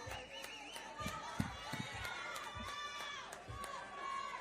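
A large crowd murmurs and calls out at a boxing weigh-in for a world title bout, with voices talking over the steady hubbub and scattered claps and shouts.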